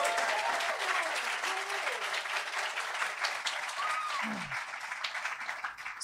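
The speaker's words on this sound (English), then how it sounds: "Round of applause for these guys for showing up." A crowd at a panel discussion gives a steady round of applause for the panelists, sustained clapping with a couple of brief voice sounds mixed in.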